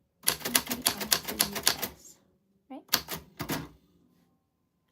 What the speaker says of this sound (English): I love this typewriter